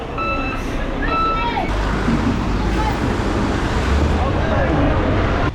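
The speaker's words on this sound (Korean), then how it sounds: "여기도 쓰레기를 다 이렇게 트럭으로 담습니다" A garbage truck backing up on a street in Brazil lets out a run of high electronic reversing beeps at the start, then its engine rumbles steadily under background voices and road noise.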